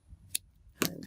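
A piece of card or paper cut in half with scissors, two crisp snips close by, the second louder and fuller, with no speech.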